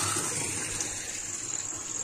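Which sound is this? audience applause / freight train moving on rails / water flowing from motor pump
water flowing from motor pump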